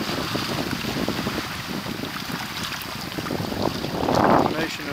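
Wind rushing over a sailboat running downwind on a flood tide, with wind against the tide raising waves; steady broadband buffeting throughout, with a louder swell of water near the end.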